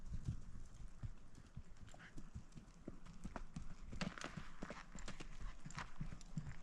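A trail horse moves in a smooth gait, its hooves clip-clopping in a quick, even rhythm, faint and somewhat distant against a soft background hiss.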